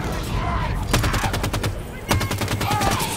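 Rapid bursts of SAW machine gun fire from the Halo 5: Guardians video game, two dense volleys, loud and close over a steady game background.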